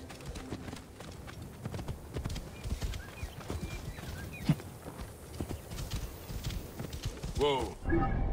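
A horse trots on hooves in Assassin's Creed Origins, a rapid continuous clip-clop close by with a faint whinny near the end, while someone talks over the galloping.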